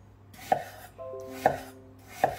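A knife slicing apples thinly for an apple cake, three crisp chops against a cutting board at an even pace, close and clear.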